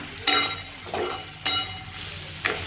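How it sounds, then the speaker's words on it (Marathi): Sabudana khichdi (tapioca pearls) tossed with sautéed potatoes in a home kitchen pan: four scraping stir strokes, each a short rasp, over a soft, steady sizzle, heard up close with no talking. "आणि इकडे हे बटाटे चांगले परतले आता टाकली खिचडी"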